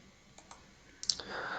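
Mouse clicks at a computer while working in the CATIA sketcher: several quick, light clicks, a double click near the middle, then a louder cluster of clicks over a soft background hiss.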